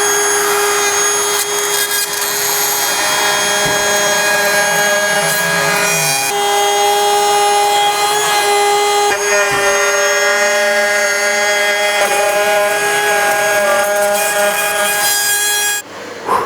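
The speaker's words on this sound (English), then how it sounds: "a router throws a ton of dust, and this is a big bit with a lot of material" Router fitted with a big bit cuts wood on a basement staircase, a loud, continuous high-pitched whine with steady tonal ringing, the pitch dipping briefly as the bit bites into material, close up.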